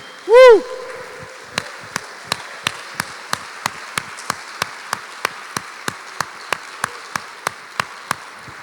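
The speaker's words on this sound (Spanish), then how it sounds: "Aplauda." Congregation at a Spanish-language church service clapping in firm unison, about three sharp claps per second, steady and evenly spaced after one brief loud voice at the start.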